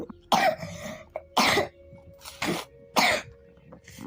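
Heavy coughing, four loud harsh bursts spaced about a second apart, close to the listener, with brief throat-clearing sounds between them and no talk.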